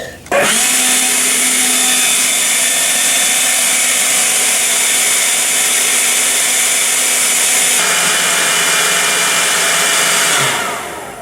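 A Ryobi 18V cordless blower runs on a 4 amp hour battery, roaring steadily and loudly at close range for about ten seconds before spinning down at the end.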